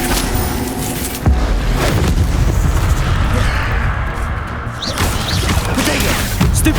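Spell impacts and explosions during combat in Hogwarts Legacy, loud booming blasts and crashing hits in quick succession, dense and continuous.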